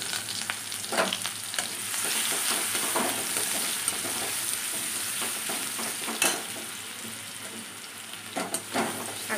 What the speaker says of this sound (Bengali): তেলের মধ্যে রসুন আর পেঁয়াজটা। রসুন দিয়ে দিলাম, রসুনটা একটু লাল লাল হয়ে গেল